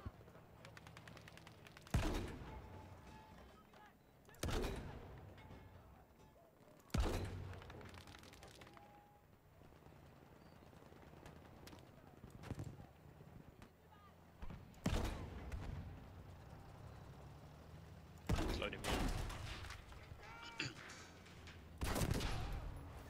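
Turret gunfire in Battlefield V rings out as several loud, heavy bursts spaced a few seconds apart, each a dense rattle of shots, with a player talking quietly between bursts.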